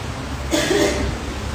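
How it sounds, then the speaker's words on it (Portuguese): A single short, harsh cough from someone with flu bursts out midway, close and fairly loud against a low background hum. "vocês me perdoam porque eu ainda estou com a famosa tosse da gripe"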